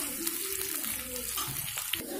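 Green chilies frying in a pan for chowmein, a faint steady sizzle with light stirring scrapes and a few soft clicks, no voices.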